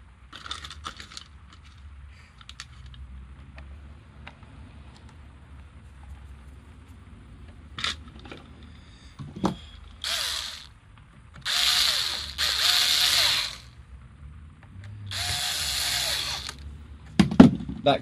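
A screwdriver ratchets as the back plate of a metal guitar pickup is screwed down, with faint handling noise followed by several loud, rough ratcheting bursts, close and with no speech.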